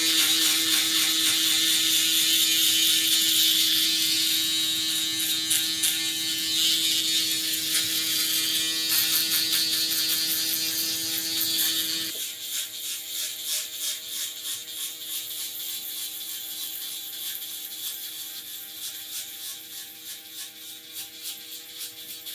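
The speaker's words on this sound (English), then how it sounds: "Uno's a smaller electric shaver." An Uno electric shaver, a small trimmer for tight spots, runs continuously with a steady mechanical whir and a ratcheting buzz. It grows slightly quieter and rougher partway through, with no talking.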